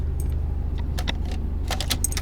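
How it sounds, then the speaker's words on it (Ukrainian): Metallic jingling of a truck's keys as the key goes into the ignition, several quick bright rattles over a constant low idling engine hum in the cab. "ключ вставили"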